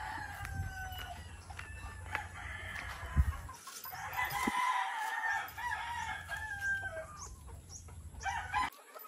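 Battlecross chickens clucking near and far, with roosters crowing in drawn-out calls over a low steady background hum, the birds calling on and off throughout.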